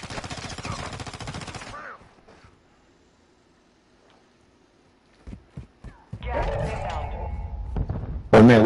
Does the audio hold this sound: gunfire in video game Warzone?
yes